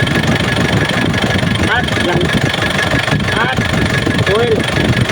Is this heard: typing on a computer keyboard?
no